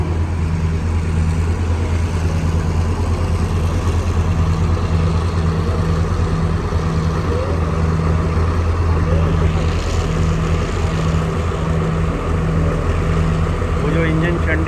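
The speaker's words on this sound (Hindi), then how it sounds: "वो जो इंजन शंटिंग करता हुआ आ रहा था, वो अब इस रेक को लेके जा रहा है।" A shunting locomotive at a railway station in Colombo, Sri Lanka, moving off with a rake; a steady low diesel engine drone with a pulsing, rhythmic throb runs throughout, loud and close, with no talk over it.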